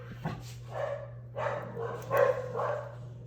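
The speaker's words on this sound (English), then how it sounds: "my dog just started barking" A dog barks several times at a moderate distance, the yips spaced unevenly over a steady low hum.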